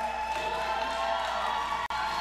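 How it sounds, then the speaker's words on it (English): Arena crowd in Belize cheering for hometown boxer El Mecanico Esquivel, a steady roar of voices and whoops at a main event, with one brief dropout near the end. "this crowd cheering on the hometown hero"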